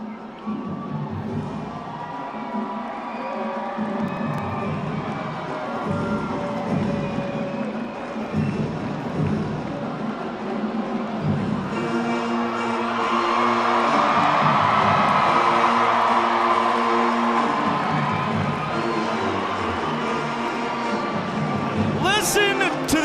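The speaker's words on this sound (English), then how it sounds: "Listen to this crowd." A tailgate crowd at an LSU versus Texas college football game cheers and shouts around the LSU mascot's cage, a busy murmur building into louder whoops and yells in the second half, with people talking throughout.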